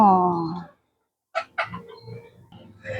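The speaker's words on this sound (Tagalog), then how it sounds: "ito po yung kanya pong mga alaga na manok ang maingay pag madaling araw" Chickens cluck in short, close bursts with brief pauses, ending in a louder flurry of clucking.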